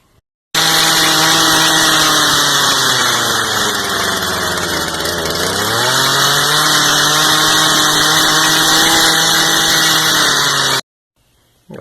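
A Stihl chainsaw with a carburetor and throttle-cable high-idle problem starts up and idles loudly and steadily up close, its pitch dipping briefly midway before settling, then cuts off abruptly.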